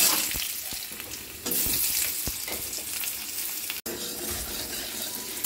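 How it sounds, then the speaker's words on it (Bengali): Potatoes fry in hot mustard oil, a dense close sizzle with scattered spoon taps and stirring, a brief dropout near the middle, and no one talking. "এবার আমি এখানে আলুগুলো ভেজে নেব"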